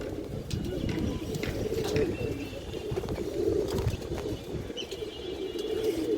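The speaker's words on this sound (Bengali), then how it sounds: "রোল্যান্ডের মুসলদম কবুতর দর্শক এই যে মাদিটা দেখেন মাশাল্লাহ খুব সুন্দর একটা পেয়ার" A pair of Muslodom pigeons coo in repeated soft, throaty calls close by, with some wing rustles. Someone talks over them throughout.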